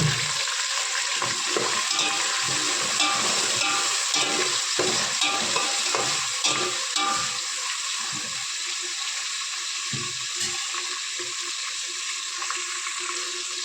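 Potatoes frying and being stirred in a pan with onions and spices for a jinga akni curry, a steady close sizzle with repeated scraping stir strokes throughout, no talking.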